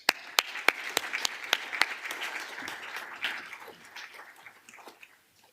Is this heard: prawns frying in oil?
no